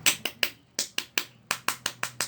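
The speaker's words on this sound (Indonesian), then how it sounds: "Tepuk pramuka" Pramuka scout rhythmic clapping, a set of about twelve sharp, close claps in a patterned beat with short pauses between groups, each clap dry and distinct with no talk over it.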